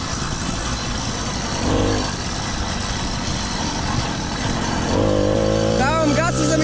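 A motor vehicle engine runs loud and close, rising in revs near the end with a whining climb, while someone talks over it.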